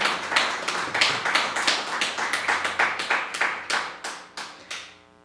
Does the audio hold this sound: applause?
yes